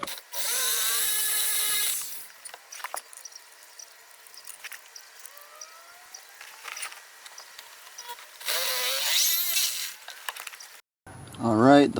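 A power drill with a hole saw cuts a 1.5 inch hole during a Honda auto-to-manual swap, giving two loud bursts of whining cutting noise separated by quieter handling clatter.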